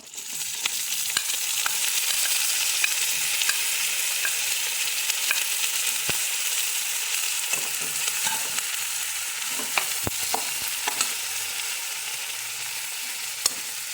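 Brinjal pieces frying in a pan of oil with a constant bright sizzling hiss, scattered light clicks and taps of a spoon stirring through it, close by and steady with no talking.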